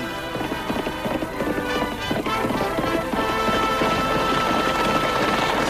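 Horse hooves galloping in a 1955 Annie Oakley radio show, a steady rapid clip-clop rhythm at a constant loud level with a busy, rumbling backdrop.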